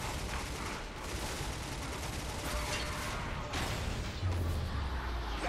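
Gunfire fills a first-person shooter match in the video game Bulletstorm, a dense, continuous roar of rapid shots and blasts with no pause, loud and close.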